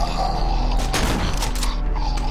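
Gunfire in the horror video game Cry of Fear: a loud burst of shots crackles in the middle, set against a dense, steady game soundscape with no talking over it.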